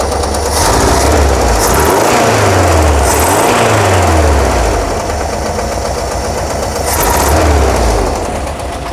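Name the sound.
1982 VW Vanagon engine idling with valve tick after carb conversion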